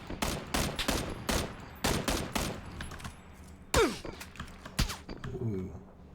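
SKS rifle gunfire in the PUBG battle royale shooter: a run of sharp, loud shots in quick bursts, then scattered single cracks and thuds. A voice is briefly heard between them.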